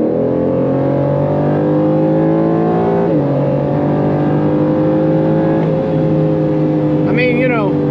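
Aston Martin Vantage F1 in track mode accelerating hard, engine note climbing steadily through the gears with brief dips at each shift, loud and close from inside the cabin.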